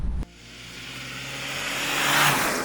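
A rally-prepared Toyota 70 Series, built for Dakar Classic, powers across a soft sandy riverbed in Chandigarh, its engine rising in a steady, building roar as it accelerates, with rushing wind and gritty surface noise.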